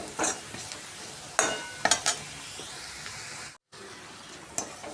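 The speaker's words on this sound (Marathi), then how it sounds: "आता छान असं तेलामध्ये पुन्हा पिठाला थोडंसंच परतवून घेणार आहे" Jowar flour with browned onion being stirred and roasted in oil in a pan for ukad pendi, a few scraping strokes of the spoon over a low, steady sizzle, with one brief dropout.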